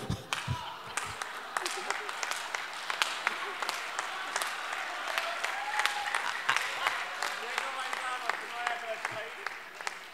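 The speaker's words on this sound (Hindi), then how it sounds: "ताली मेरी बात अच्छी लगे तो बजाना" Audience applause at a Hindi poetry recital (kavi sammelan), a dense stretch of clapping from a large crowd that keeps going steadily for about ten seconds, with some voices mixed underneath.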